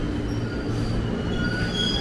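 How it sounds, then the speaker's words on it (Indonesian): A 12-car KRL commuter electric train rolls into track 3 at Depok station, Indonesia, with a steady low rumble and faint metallic wheel squeal, loud and close, no voices. "Masuk lagi deh ke jalur 3 komuter lain tujuan stasiun Bogor."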